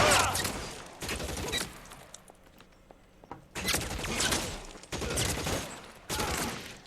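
Bursts of gunfire from a shootout in the L.A. Noire video game, several loud volleys separated by short quieter gaps, with scattered mechanical clicks between them.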